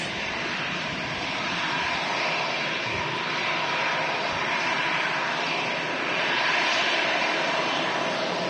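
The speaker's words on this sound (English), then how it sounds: "EasyJet in from Paris." EasyJet airliner arriving from Paris at Manchester Airport, a broad sustained jet engine roar that holds steady and swells slightly toward the end, loud and continuous with no voices.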